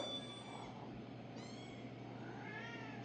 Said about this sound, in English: Jesus, kittens everywhere.